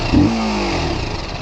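A TVS Apache 300cc motorcycle engine blips, rising sharply into a brief throaty rev before settling into a steady, loud, close-up drone for the rest of the moment.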